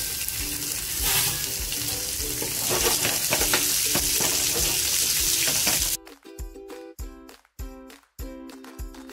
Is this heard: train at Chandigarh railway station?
no